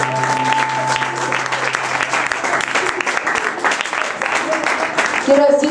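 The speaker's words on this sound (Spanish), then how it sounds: "sí. El aplauso para Cristo" Audience applause for Christ at a live gospel show, dense clapping continuing throughout alongside amplified music tones, loud and close.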